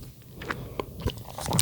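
Short wet crunches and squishes pop out in quick succession as crunchy slime with small foam cubes is squished, close and crisp, with soft crackling between them.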